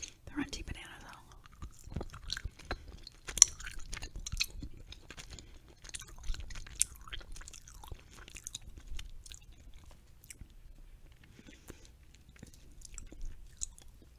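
Harry Potter Jelly Slugs gummy candy chewed close to the microphone, with soft, wet, irregular mouth sounds and occasional sharper clicks, quiet and intimate, with faint whispering now and then.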